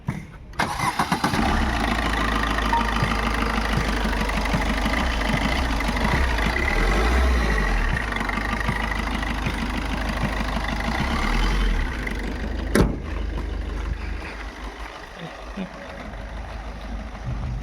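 A 2018 Maruti Swift VDI diesel car starts and settles into a loud, steady, rumbling idle close by. A sharp click comes near the end, and a voice talks over the engine.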